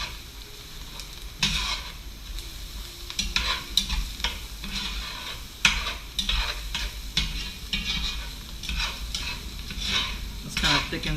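Flour is stirred into a crawfish sauce in a pan for crawfish fettuccine, giving a close, continuous sizzle with irregular scraping and stirring strokes and no voices.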